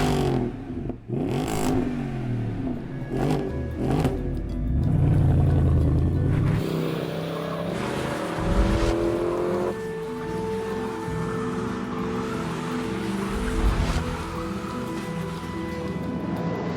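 A car engine revving hard under the hood of an everyday car fitted with a powerful motor. Several rising and falling revs come near and loud, then a steady drone continues.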